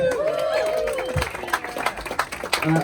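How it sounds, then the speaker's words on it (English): Crowd gathered for a ribbon cutting ceremony at the 2019 Surround Sound Bash in Fort Collins gives a short burst of outdoor applause, mixed with tonal sounds and a voice in the background. "How about a big round of applause for yourselves"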